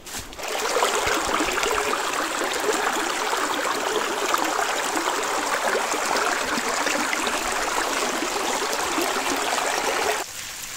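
Hacılı waterfall stream rushing steadily outdoors, a loud continuous wash of flowing water that holds for about ten seconds and then drops off slightly at the end.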